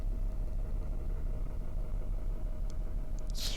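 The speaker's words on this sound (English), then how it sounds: "Oh, listen to that engine." A car engine idling in Car Mechanic Simulator 2018, a low steady mid-pitched rumble heard alone and fairly quiet, with a brief faint click near the end.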